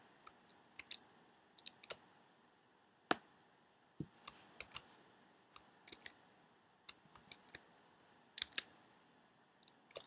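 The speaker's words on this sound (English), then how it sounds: "type it in and click search" Scattered keyboard keystrokes and mouse clicks come from someone typing a search term into a bibliographic database on a computer, sharp isolated clicks at an irregular pace, close and fairly quiet with no talking.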